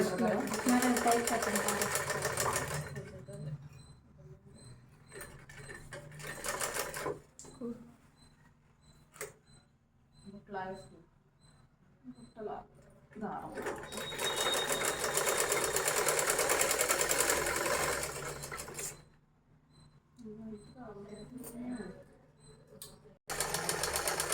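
A sewing machine stitches fabric in several long whirring runs separated by pauses, loud and close, while a person talks quietly in the gaps between bursts.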